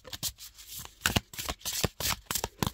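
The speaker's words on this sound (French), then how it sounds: "Je les remue bien, je les mélange bien" I-Ching oracle cards are shuffled by hand in quick, uneven bursts of riffling and sliding, close and clear, with short pauses between rounds.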